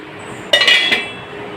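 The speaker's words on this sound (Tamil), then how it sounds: "இப்போ ஒரு மூடி போட்டு நம்ம மூடி வச்சுட்டா" A metal lid clinks down onto a pot of cooking pasta with a couple of quick rattling taps, over a low background hiss.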